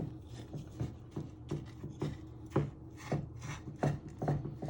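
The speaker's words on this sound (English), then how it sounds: "with the back of the spoon, you just want to push it really down." The back of a spoon presses a crumbly biscuit base for a cheesecake flat in a dish, making soft repeated scraping and crunching pushes in an uneven rhythm, close by.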